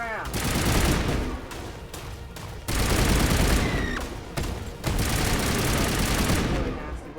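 Weapons firing in the Mass Effect video game, dense bursts of rapid gunfire in several loud volleys separated by short breaks, with impacts and shots overlapping close up.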